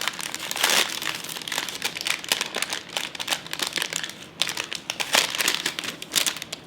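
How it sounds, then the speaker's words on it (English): Packaging crinkles and crackles in dense, irregular bursts as a parcel is opened up close, loud and busy with brief pauses between handfuls, and no talking. "Sorry for the crinkling."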